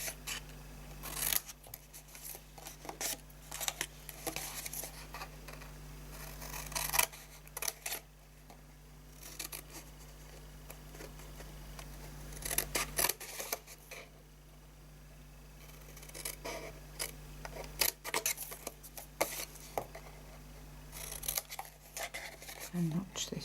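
Scissors snip and notch cardstock for a handmade fold-flat chocolate gift box, a series of small crisp cuts in irregular bursts, close and fairly quiet over a low steady hum, with speech in places.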